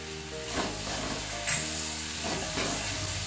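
Ginger paste and moong dal sizzle in a hot pan, a steady frying hiss broken by a few soft stirring scrapes, close and alone with no talk.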